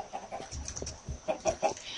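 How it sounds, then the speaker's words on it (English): Minecraft chickens clucking in short, close bursts, several soft clucks in uneven rhythm over faint game background noise. "Chickens."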